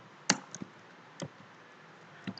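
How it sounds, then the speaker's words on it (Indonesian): A few sparse, faint key clicks on a laptop keyboard as a web address is typed, spaced-out single taps in an otherwise quiet room. "Buka browsernya, lalu ketikkan"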